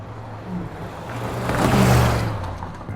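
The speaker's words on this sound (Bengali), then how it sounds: "দেরি হয়ে গেছে বলে নীল বেশ জোরেই গাড়ি চালাচ্ছিল।" A car driven fast along a good road near a border settlement, engine note swelling as it passes close and then fading, loud and alone.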